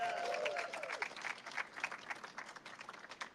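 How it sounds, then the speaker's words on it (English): Applause from an audience at a political rally for a group of young Democrats, starting under a fading voice and continuing as scattered, uneven clapping of many hands at moderate distance, gradually thinning out. "Big round of applause for the young Democrats"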